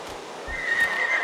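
A horse whinnies at a horse breeding facility in Horse Tales: Emerald Valley Stables, a loud, drawn-out, high-pitched neigh rising over soft low thumps, with no talk over it.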